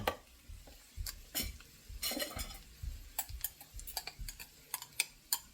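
A spoon clinks and scrapes around a bowl, stirring finely chopped chilli and spring onion into water, with quiet irregular taps and scrapes at close range.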